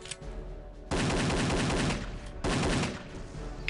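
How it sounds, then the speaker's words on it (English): Rapid automatic gunfire in the first-person shooter Return to Castle Wolfenstein, two loud, close bursts of about a second each separated by a short lull. "Oh, who's shooting me now?"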